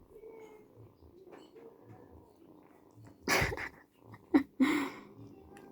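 A pet cat purrs close up with a soft, low, regular rhythmic rumble, interrupted by a few louder rustling bumps and clatters near the end.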